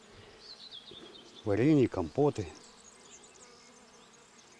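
Bees buzz among blackberry bushes in a garden, a faint steady hum close by, briefly covered by someone speaking midway before the buzzing continues alone.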